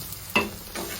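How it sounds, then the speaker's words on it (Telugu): Boiled eggs being mixed into an egg curry in a pan, a quick scraping stir over a low sizzle, with one sharp stroke followed by a softer one. "ఎగ్స్ వేసుకుని మిక్స్ చేసుకోవాలి."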